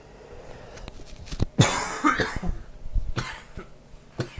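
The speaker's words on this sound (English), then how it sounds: "I just can't stop coughing." A sick person coughs hard at close range during an indoor livestream: one loud harsh burst followed by smaller scattered coughs and throat noises, with no talking.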